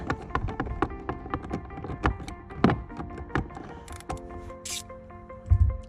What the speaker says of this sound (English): take your ratchet and loosen it up